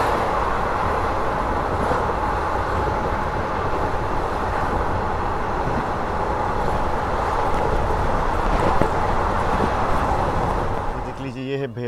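The Vadodara–Kota passenger train runs along the rails with a loud, continuous rumble and clatter heard from on board, ending in a short burst of rattling near the end.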